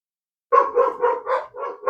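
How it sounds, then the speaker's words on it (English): Pet dogs bark repeatedly in the background of a garage-style workshop while the Shake 'n Bake DX7 is being upgraded, a steady run of six or so rapid barks following a short silence. "you can hear our dogs going nuts in the background"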